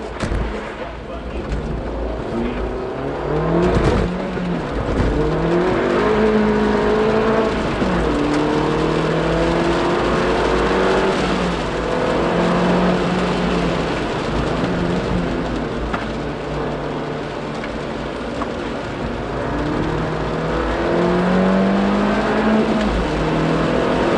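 A Mini on a timed sprint run at Goodwood's 2018 Spring Sprint, its engine loud and close, climbing through repeated rising revs with gear changes over a steady roar of road and wind noise.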